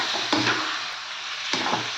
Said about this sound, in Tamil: இதையும் போட்டு நல்லா வதக்குறோம்.